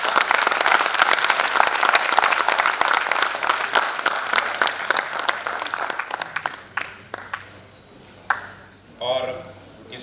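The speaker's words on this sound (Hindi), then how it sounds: "कृपया ताली बजा दें" Audience applause at a stage event, steady dense clapping that fills most of the stretch before thinning out and fading near the end.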